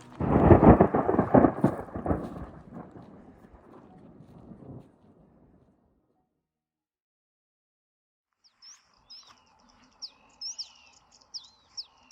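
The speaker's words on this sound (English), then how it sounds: "the rain is coming, thunder already" Rumbling thunder rolls loud and close as rain approaches in Ethiopia, fading away over several seconds, then faint bird chirps and calls follow in the quiet.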